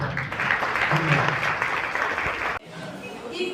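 A crowd at a women's college celebration of International Day of the Girl Child claps loudly in a dense, sustained burst of applause that cuts off abruptly, leaving quieter room noise behind.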